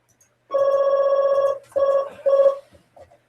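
A phone rings with a tonal electronic ringtone: one long burst followed by two shorter ones, close and clear in an otherwise quiet room before it is cut off.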